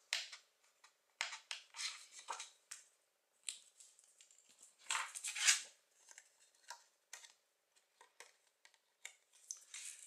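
Scissors cutting ribbon close up, a series of quiet, crisp snips and clicks in irregular bursts with silence between.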